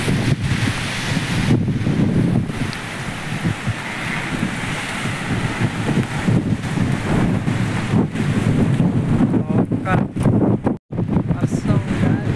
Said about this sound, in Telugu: గాలి దుమ్ము పాటు వర్షం.